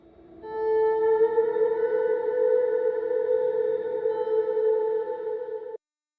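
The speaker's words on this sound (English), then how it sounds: "we just used a guitar slide that's drenched in reverb" A guitar slide soaked in heavy reverb for a lofi track. It holds one smooth, sustained, rising tone for about five seconds and then cuts off abruptly.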